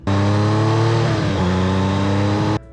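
A loud motorcycle engine running close by, a steady, deep, rough drone with a brief shift in pitch midway, alone for under three seconds before stopping abruptly.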